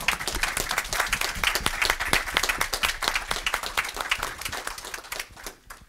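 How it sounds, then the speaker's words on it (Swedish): Audience in a seminar hall on crisis preparedness and safety training applauding themselves, a dense, steady burst of many hands clapping close by for about five seconds before thinning out at the end. "jag tänker vi applåderar oss allihopa tycker jag då"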